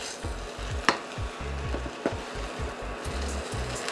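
Glutinous fried rice mixed in a pan with a spatula, repeated scraping and stirring strokes in an uneven rhythm, with light sizzling and a couple of sharper clacks against the pan, close and without talk.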